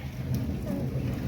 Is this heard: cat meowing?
no